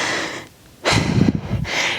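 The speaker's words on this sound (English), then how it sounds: "I'm breathing." Heavy exertion breathing during a full-body functional strength workout: a quiet pause, then a loud, forceful breath lasting about a second, followed by another strong exhale, close and with no talking.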